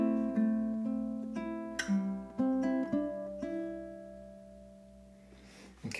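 Ukulele playing a bar of a song: a slow run of picked and strummed chords ringing out close and clear, ending in a long decay and a faint handling noise.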